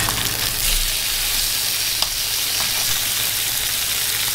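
Trout fillet frying in a pan on one side, giving a steady, loud, continuous sizzle with a few faint pops and no talk.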